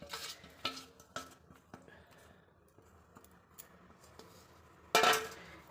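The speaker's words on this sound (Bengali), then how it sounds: "ড্রাই ইনগ্রিডিয়েন্টের সাথে মিক্স করে ব্যাটারটা বানিয়ে নিতে হবে" Spoon stirring fruit cake batter of dry ingredients, sugar, oil and milk in a bowl, with soft scraping and a series of light clinks against the bowl, then a brief louder clatter near the end.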